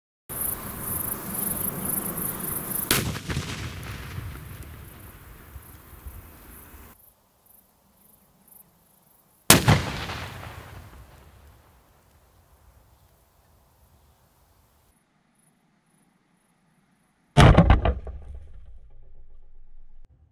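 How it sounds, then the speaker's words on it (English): Glass wine bottle shaped charge packed with 300 grams of liquid explosive and primed with a non-electric blasting cap detonates outdoors: a sharp, loud broadband blast with a decaying rumble, preceded and followed by other abrupt bangs and quiet gaps. "the wine bottle shaped charge detonated with a beautiful blast"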